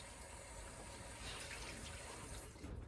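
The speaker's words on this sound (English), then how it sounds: "you can also just keep squeezing it under a faucet" Steady gush of tap water running into a sink while tie-dyed fabric is squeezed and rinsed under the faucet, a continuous close hiss throughout.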